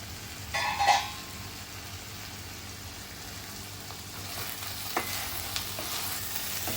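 Cluster beans and pumpkin bhaji cooking in a pan, a quiet background sizzle with a few faint stirring scrapes and clinks.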